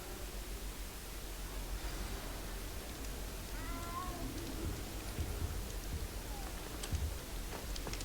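A small cat meows in the Hogwarts Legacy video game, a few faint, brief cries rising over a steady hiss of game ambience and background noise.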